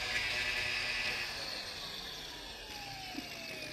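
A DongCheng DCSM04-125 cordless angle grinder running: a steady high-pitched motor whine that slowly winds down, moderately quiet and heard alone.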